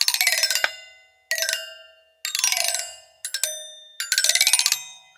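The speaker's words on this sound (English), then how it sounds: "So that's got me a complete set of chimes for it." A Pixiano toy piano being restored plays bright metallic chime notes in five separate bursts, each a quick cluster of ringing tones that decays away, close and fairly loud with silent gaps between.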